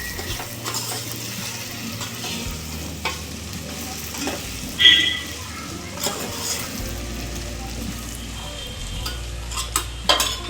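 Okra (bhindi) sabzi is stirred in a pan: a spoon scrapes and taps against the metal in irregular strokes over a low sizzle, with a low background hum and no talking.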